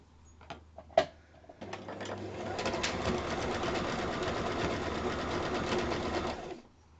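Home sewing machine stitching stretchy fabric: a few soft clicks and taps, then a steady whirring, rattling run of about five seconds that stops abruptly, close and fairly quiet.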